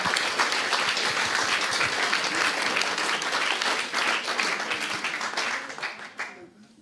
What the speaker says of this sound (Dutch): Een warm applaus voor Armand.